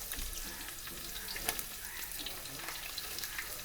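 Ginger, garlic, fenugreek and mustard seeds sautéing in coconut oil in a pan for a Kerala fish curry, giving a steady close sizzle with faint scraping and stirring throughout, without talk.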